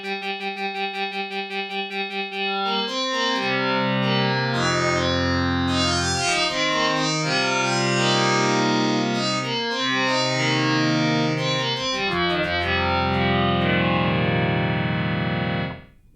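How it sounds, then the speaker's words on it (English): A Peak synthesizer playing a raw, buzzy oscillator tone with rich stacked harmonics, sustained chords shifting in steps over a steady loud bed, with some effects coloring, fading out at the end. "I might try and bring in a little of this raw oscillator sound."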